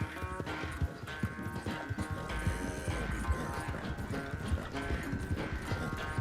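Horse hooves clip-clop steadily in Red Dead Redemption 2, a continuous trotting rhythm heard up close over a busy game soundtrack, with no talk.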